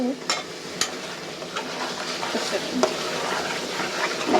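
Chicken curry with papaya cooks in a pan while a spatula stirs it. A soft frying sizzle runs throughout, broken by a few sharp clinks of utensil on metal, all close and with no voices.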